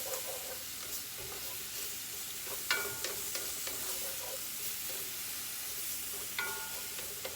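Chopped onion sizzles steadily in a hot frying pan for chicken quesadillas, with a continuous close hiss broken by several scraping clatters as it is tossed and stirred.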